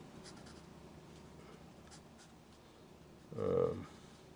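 A pen drawing lines on paper gives faint, soft scratchy strokes in the background, with a brief louder low tonal burst near the end.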